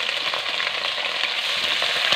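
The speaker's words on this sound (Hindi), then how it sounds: "और इसको हमने थोड़ा सा भून लेना है।" Whole spices such as mace and cinnamon fry in hot oil in a pan for a chicken karahi curry, giving a dense, continuous sizzle with faint crackles and stirring scrapes, close and steady with no talking.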